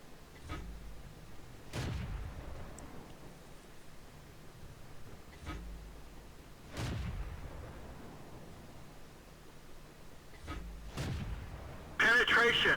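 Main gun of an M5 Stuart tank firing in a video game, several heavy booming shots spaced a few seconds apart over a quiet background, with a voice speaking between them.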